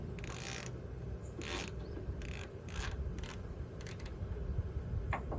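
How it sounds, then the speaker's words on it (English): A 3/8 inch ratchet with a T50 Torx socket loosening painted-on hood bolts on a Jeep Wrangler: several short bursts of rapid ratchet clicking over a low steady rumble, close by. "we're going to be using a 3/8 inch ratchet with a T50 Torx socket"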